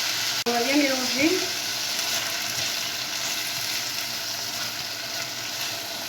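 Chopped tomato cooking in a frying pan for stuffed aubergines, a dense continuous sizzle after a sharp knock at the start, with a brief tonal squeak of stirring early on.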